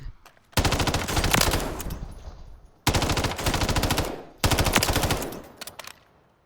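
Sustained automatic gunfire from a mid-range weapon in the video game Warzone, three long loud bursts of rapid shots separated by short pauses, with no talking.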